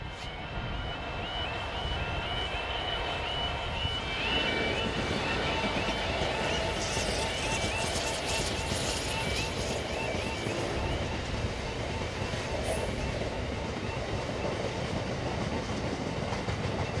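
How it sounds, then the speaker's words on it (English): Class 66 locomotive 66702 hauls a stone train past at a distance, a steady, moderate rumble of wheels and wagons with a rising engine note through the middle. "This is one of several stone trains that make their way to terminals across this side of England."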